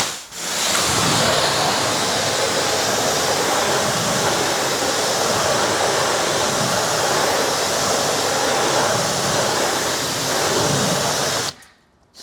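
Water sprayed in a steady, loud, continuous hiss over ceramic-coated Porsche 964 wheels during a pre-rinse, close by, running for about eleven seconds before cutting off abruptly.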